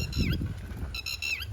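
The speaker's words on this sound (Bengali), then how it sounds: "পাখি ডাকছে" Birds call in two short bursts of squawking, honk-like notes, the first near the start and the second near the end, over a steady wash of light rain in wooded countryside.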